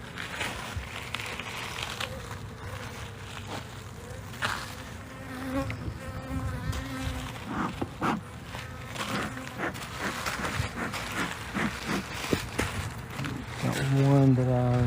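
Honey bees buzz steadily around an opened backyard hive during an inspection, a close, continuous droning hum under a person talking throughout.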